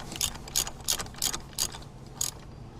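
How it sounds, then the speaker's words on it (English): A ratchet with a 21 mm socket on an extension works loose the IAT sensor on a Ford Powerstroke air intake, producing six crisp, evenly spaced clicking bursts, close up and with no voices. "take my 21 millimeter socket with an extension and a ratchet."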